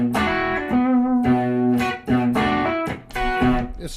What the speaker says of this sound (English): The first one would be this little Noble's ODR. It's just a good sounding. It's probably a little more drive than I normally have